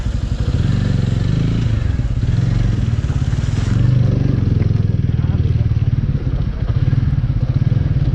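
Motorcycle riding a rough, landslide-damaged mountain road in Sikkim between Ravangla and Gangtok, with a steady, loud, close engine drone and rapid low thumping, plus rattles and clatter from the bumpy surface.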